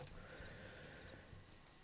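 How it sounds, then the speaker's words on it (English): A horse neighs once in Red Dead Redemption, fairly faint, over a steady background hum with no talking. "There should be some horses for us across the way."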